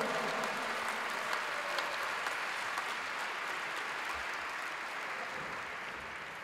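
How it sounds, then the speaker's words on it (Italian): A crowd at a basketball team presentation in Forlì applauds steadily, dense clapping holding at a constant level throughout before easing slightly near the end. "Un applauso Matteo."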